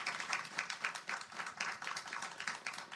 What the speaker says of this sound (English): Let's give our panel a huge round of applause.